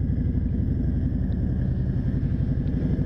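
A 420 kg Harley-Davidson Road Glide rides slowly through Kazimierz in Kraków near Plac Nowy, its engine giving a deep, steady, close rumble.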